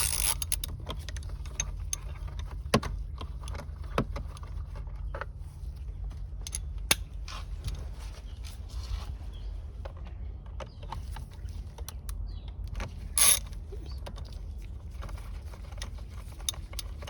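Ratchet turning T27 Torx screws on a 2004-2009 Toyota Prius, sparse clicking and metallic ticks with short scattered bursts over a quiet low hum.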